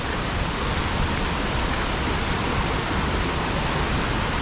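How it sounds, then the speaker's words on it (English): A rushing river near Nungnung Waterfall in Bali roars as a dense, steady wash of broadband noise, loud and close, with no voices over it. "This is the crazy river."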